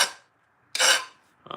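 A metal file rasps across a piece of armor in short strokes, two harsh scraping pulls with a pause between and the start of a third, close and alone.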